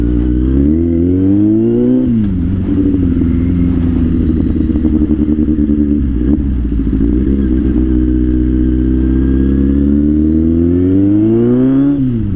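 A Kawasaki Z800 motorcycle on a test ride revs hard and accelerates through several gears, its loud, close engine note rising, dropping at each shift, then climbing again.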